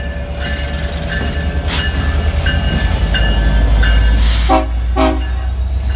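A freight train passes a railroad crossing at night, a loud close rumble and clatter of cars with rhythmic crossing-bell tones and a short horn blast toward the end.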